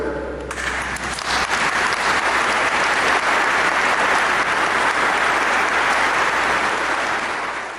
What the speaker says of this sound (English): You may applaud together.